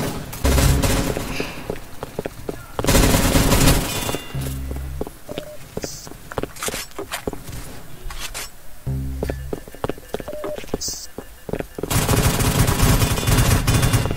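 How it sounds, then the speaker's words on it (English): Rapid bursts of minigun fire in a Roblox video game, loud buzzing volleys that start and stop in several bursts, separated by quieter stretches with footsteps and other game sounds. "I died by a minigun guy."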